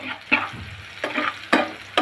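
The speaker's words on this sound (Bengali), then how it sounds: "পেঁয়াজটা আমি হালকা করে ভেজে নিব, বেশি ভাজবো না।" Chopped onion and green chilli fry in a pan with a little salt and turmeric while being stirred, giving a soft continuous sizzle broken by several sharp scraping stirs.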